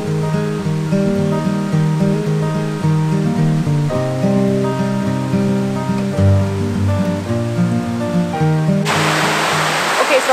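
Water rushes in a steady, loud roar beneath sustained musical tones, with a surge of broad noise near the end.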